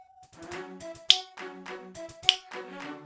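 Two crisp claps land on the beat of a jaunty melodic tune in Zelda: Spirit Tracks, each a sharp, bright snap about a second apart over bouncing game music.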